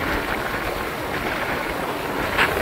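Wind buffets the microphone on a motorbike riding along an Indian road to Palghar, a loud, steady roaring rush with low rumble and no talk.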